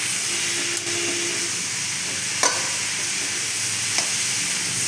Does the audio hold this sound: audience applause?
no